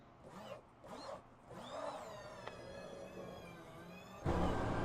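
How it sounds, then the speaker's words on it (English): A Cadillac hypercar's V8 engine in the Le Mans Ultimate racing game starts up and settles into a steady idle, then a sudden louder surge near the end, with pitched whirring tones in between. "The V8 coming on over the engine"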